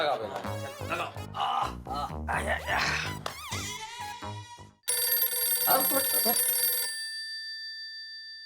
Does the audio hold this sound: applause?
no